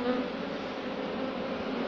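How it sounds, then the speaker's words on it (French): Honeybees from a healthy, open hive give a dense, steady buzzing drone, close and unbroken throughout, with no voices over it. "Je ne sais pas si le bruit s'entend. Voilà. Ça c'est une ruche en pleine santé."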